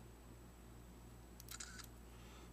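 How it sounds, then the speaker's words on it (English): A Sony P200 digital camera fires its shutter once, a brief electronic click and chirp over a steady low hum, quiet and close. "if I touch common in gray, I should take a picture."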